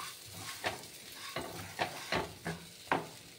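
Masala with sugar and Kashmiri chili powder fries quietly in a pan while a spatula stirs it, giving five or six distinct scraping strokes over a low, steady sizzle.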